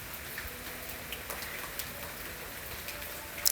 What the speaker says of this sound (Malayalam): രാവിലെ തന്നെ മഴയാണ്.